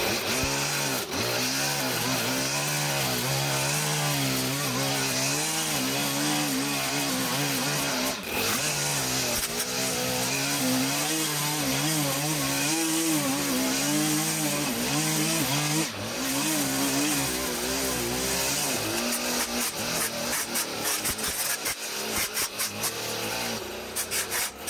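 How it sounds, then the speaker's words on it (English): A gas string trimmer cuts through an overgrown, neglected yard, its engine whining steadily and loudly for the whole stretch, with wavering pitch as the line bites into thick growth, and no talking. "I did say I wasn't going to grab a trimmer today, but I lied."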